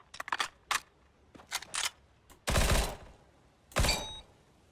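Gunfire in the shooter CS:GO: a run of sharp, clipped shots in small clusters, then two heavier, longer blasts, each standing out crisply against near silence.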